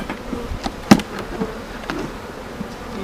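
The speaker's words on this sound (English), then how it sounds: "A ton of bees." Honeybees buzz around the deep box of a beehive, a steady faint hum up close with a few sharp knocks and clicks from handling the hive equipment.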